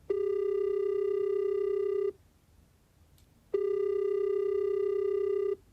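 An unanswered telephone call produces two long, steady ringback tones, each about two seconds, separated by a quiet gap of roughly a second and a half, heard clearly through the line.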